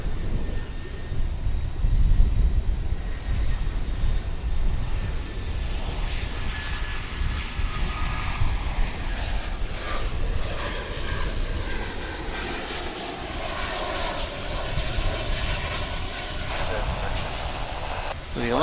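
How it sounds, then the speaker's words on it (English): Alaska Airlines Boeing 737-900 taking off at DFW International Airport for Seattle, a loud continuous jet roar with wind buffeting the microphone, the engine tone sweeping as the aircraft climbs away. "So we have Alaska, flight 287, headed to Seattle, 737-900."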